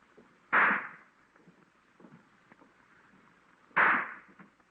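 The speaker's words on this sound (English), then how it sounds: "Where'd you get the firecrackers, Sonny?" Two sharp, loud bangs about three seconds apart, each with a short ringing tail, and faint scattered pops and crackles in between.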